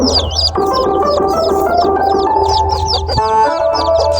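Chickens cluck in a rapid, repeated rhythm close by, with a rooster-like call mixed in; a steady barnyard chorus carries on alone throughout.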